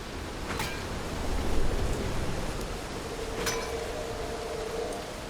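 Rain in the video game Dying Light: The Beast makes a steady, even hiss of falling water with no pauses, and a few faint clinks sit within the wash.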